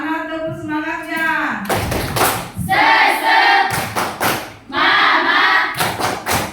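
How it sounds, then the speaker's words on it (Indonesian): A class of students in an Indonesian classroom performs a rhythmic spirit clap, steady loud thumping claps mixed with chanted voices in repeating bursts. "Mana tepuk semangatnya?"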